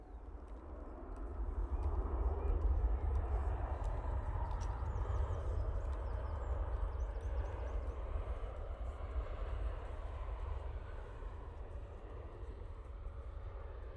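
A TUI airliner at Manchester Airport produces a sustained low engine roar with a broad jet rumble that swells early and stays loud, fading slightly toward the end, no talking.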